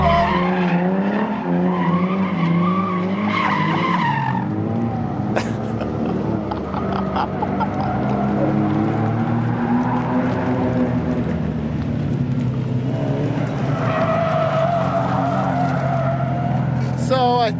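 A cheap Lexus SC300 drifting, with tires squealing loudly and continuously over a revving engine, the pitch sweeping up and down through the slide while voices shout nearby.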